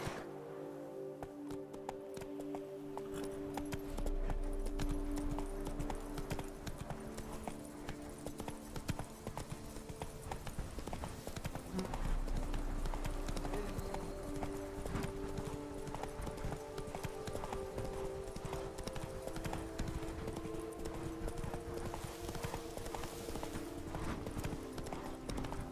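Horse hooves clip-clopping at a steady trot through The Witcher 3: Wild Hunt – Blood and Wine, continuous and fairly close over layered game music and ambience, with a few brief voice lines.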